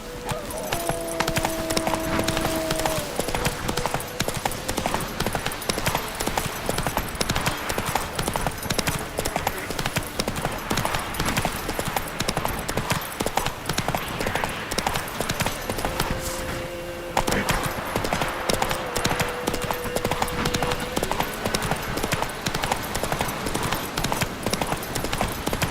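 Roach the horse gallops in The Witcher 3, a steady rapid clip-clop of hooves running throughout under dense battle noise, with occasional whinnies and shouting voices breaking through.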